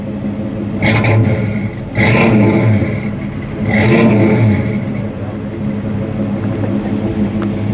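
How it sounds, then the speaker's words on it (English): 1969 Mercury Cyclone Spoiler with a 351 V8 revved three times in quick succession, each blip a loud rising roar that drops back to a deep, steady idle rumble close by. "Larry, give it a rev."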